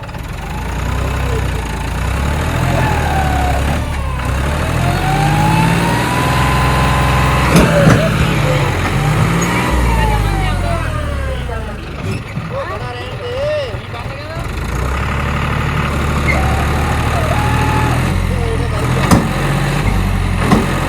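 A John Deere and an Arjun tractor strain against each other in a tug of war. Their loud diesel engines drone and labour, rising and falling, while people shout and talk over them throughout.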